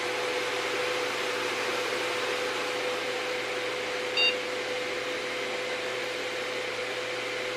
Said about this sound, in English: Okay, we had a post beep that time.